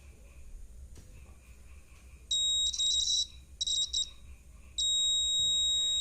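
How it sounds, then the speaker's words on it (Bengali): A small electric buzzer wired in a simple circuit with a motor gives out a shrill, high-pitched tone. It sounds in short bursts and then holds steady, over faint background hiss, with no speech. "দেখবে যে বাজারটি বাজছে ঠিকই, কিন্তু মোটরটি আর ঘুরছে না"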